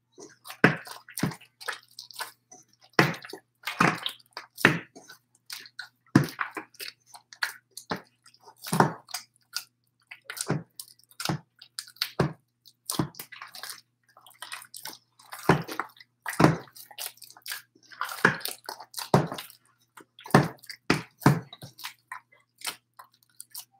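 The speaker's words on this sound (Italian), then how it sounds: "Che ora impastiamo per bene." Bari-style pizza dough is kneaded by hand at home, giving a long run of irregular soft squishing, slapping and sticky smacks that stay close and clear with no talking.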